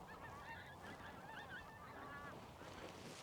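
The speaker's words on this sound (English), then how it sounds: "when winter comes, when there's that amount of geese flying." A large flock of migrating geese honks continuously overhead, many overlapping calls at a moderate distance against light wind, with no one talking.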